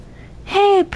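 A pet cat letting out a single loud, drawn-out meow close by, followed by the start of another cry.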